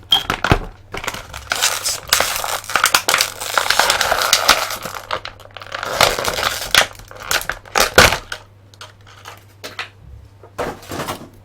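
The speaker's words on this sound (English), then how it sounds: "I'm striving to unravel these plastic bindings that keep him relegated to his packaging." Plastic bindings on a DC Multiverse Shazam action figure's packaging being undone, with loud, close crinkling, crunching and snapping of plastic in irregular bursts, with no talking.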